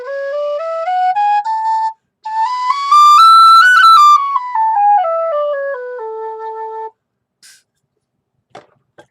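Irish tin whistle played alone, a clear bright piped melody stepping up through several notes and back down in sustained tones, close and loud, ending after about seven seconds.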